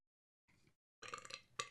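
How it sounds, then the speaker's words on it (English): A person lets out a loud, close burp in two bursts, a brief grunt and then a longer rumbling belch, after a moment of silence. "you just belched out loud"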